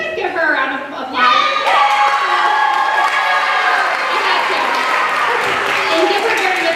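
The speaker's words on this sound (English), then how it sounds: "can you guys give her a round of applause?" A roomful of people at an elementary school talent show cheers and claps loudly and steadily, a continuous wash of applause with excited voices mixed in.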